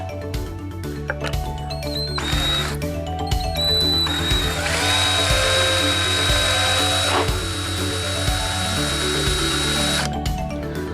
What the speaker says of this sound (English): mark the holes and do some drilling for those inserts